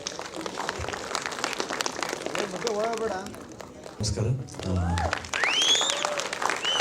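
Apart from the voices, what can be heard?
loud applause from the audience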